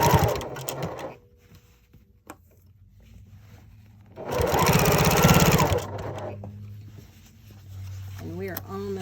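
A home sewing machine stitches the hem of a fanny pack made from upcycled jeans, running in two steady whirring bursts separated by a pause, with a person talking between and over the stitching.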